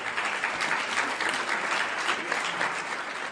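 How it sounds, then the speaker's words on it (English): A hall audience at a climate summit speech breaks into applause, a steady, even roar of many hands clapping that fills the room at moderate volume without pause. "I'm glad you're applauding"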